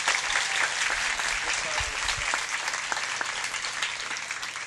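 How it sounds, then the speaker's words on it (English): Sustained applause from a university convocation audience at Cal State Northridge, a dense, steady clatter of many hands filling the hall for several seconds without letting up. "Give him a big round of applause."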